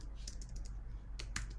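Brisk typing on a computer keyboard, close and clear, with short bursts of key clicks over a steady low hum, and no talk.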